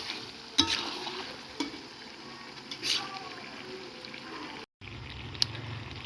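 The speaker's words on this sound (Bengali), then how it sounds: "এবার দিয়ে দিচ্ছি আলু, ভালো করে নেড়ে নেব।" Oil sizzling under meat as pre-fried potatoes are stirred in, a low steady fry with scattered clinks and scrapes of a spoon against the pan, moderately quiet.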